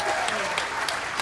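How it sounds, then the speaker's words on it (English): A magic show audience on the Carnival Spirit cruise ship gives a volunteer a brief, dense burst of clapping, loud and continuous throughout. "Big round of applause."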